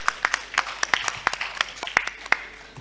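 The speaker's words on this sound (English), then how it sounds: "A big round of applause in his absence." Audience at a railway retirees' association meeting applauding, a thin scattering of separate sharp claps from a small group, fairly close and uneven in rhythm.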